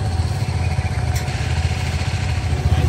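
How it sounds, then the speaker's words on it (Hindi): Motorcycles idling while warming up before a long ride in Himachal: a loud, close, low throbbing engine chug with rapid steady pulses and mechanical clatter, continuous and without voices. "हम लोग वार्म अप कर रहे हैं अपनी बाइक को"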